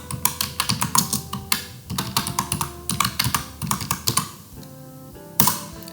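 A computer keyboard clacks as a search query is typed, with quick, close, crisp keystrokes in uneven bursts, a short pause, then a final sharp tap, alone without talk.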